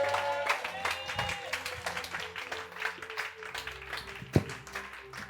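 A church congregation at a Sunday service claps and cheers in praise of the Lord. The applause is steady and moderately loud and mixes with voices calling out, with one sharp louder clap near the end.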